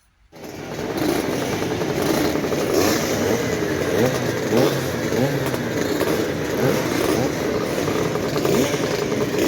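Vintage Vespa scooters, 50 and 60 years old, race around a circuit in an eight-hour endurance event, their small two-stroke engines blaring and buzzing in a dense, continuous loud drone that starts abruptly.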